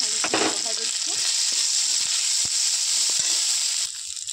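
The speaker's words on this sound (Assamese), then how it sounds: "আলুখিনি বহাই দিছোঁ" Potatoes fry in oil with panch phoron, making a loud, continuous sizzle with scattered sharp pops and a few stirring knocks, with no talking.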